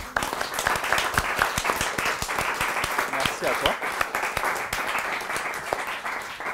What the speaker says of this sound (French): j'aimerais, s'il vous plaît, que vous puissiez l'applaudir.